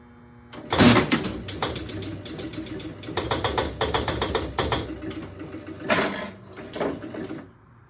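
Jungle Princess electromechanical pinball machine starting up, with dense bursts of relay clicks and stepper ratcheting in several clustered runs, close and fairly loud.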